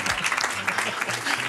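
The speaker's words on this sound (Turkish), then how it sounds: "Onu bir alkışlayalım." Short burst of close, lively clapping from a quiz night audience, with a voice briefly audible under it.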